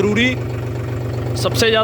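A John Deere tractor engine with a dry air filter idles steadily with a low, droning hum as its intake air is blocked, while someone talks loudly close by over it.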